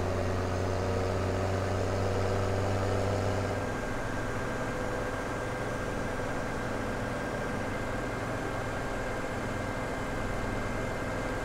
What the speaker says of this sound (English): This tractor's having a hard time with it.